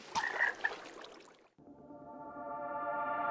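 A frog in the video game Minecraft croaks in a steady, buzzy drone that swells slightly and holds for a couple of seconds after a brief burst of other game sound.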